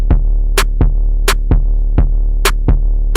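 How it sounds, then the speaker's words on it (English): Bass line isolated from an electronic music mix with the melody muted, playing a repeating pattern of punchy low notes with bright transient hits on top, loud and steady with no talking. "So the bass sounds like this right here."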